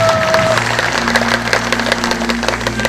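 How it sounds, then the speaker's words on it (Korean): An audience at a public event declaring joint support for bringing the Daegu military base to Yeongcheon applauds a priest; sustained close clapping with sharp individual claps over a low steady hum. "말씀해주신 이형동 신부님께 다시 한번 더 큰 감사의 박수 부탁드리겠습니다"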